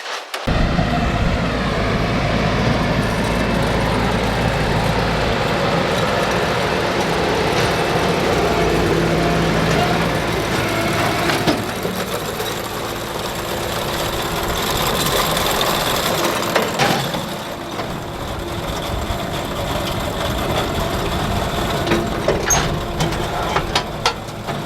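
A hay baler runs in a field, its needle and knotter working to tie twine on the top end of each bale: a loud, continuous mechanical clatter over a steady engine drone, with the rhythm shifting partway through.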